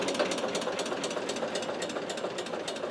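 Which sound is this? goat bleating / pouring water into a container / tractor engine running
tractor engine running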